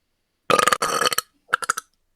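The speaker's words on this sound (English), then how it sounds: "with that massive belch, we shall return to the world" A loud, drawn-out belch rumbles for about a second, then a second, shorter burp follows after a brief pause. Both are close and prominent, with no talk over them.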